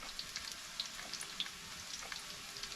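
Potato pancakes fry in a pan at an off-grid cabin, giving a steady soft sizzle with scattered small pops and crackles. The sizzle is faint and continuous, and no one speaks over it.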